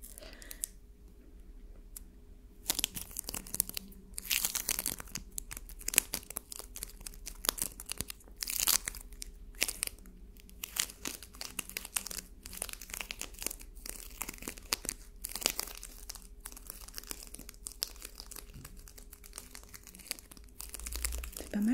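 Glued pages of a bath book being peeled apart, producing close, soft crinkling and crackling tears in a steady run of small bursts with brief quiet gaps, no talking.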